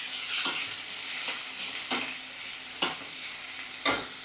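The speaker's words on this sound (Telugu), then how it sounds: "3 ఉల్లిపాయలు సన్నగా చాప్ చేసుకోవాలి. ఇవి వేసేసుకుని మంచిగా వేగనివ్వాలండి." Three finely chopped medium onions frying in a pan, a steady soft sizzle broken by about four sharp stirring scrapes, fairly quiet and close with no talk.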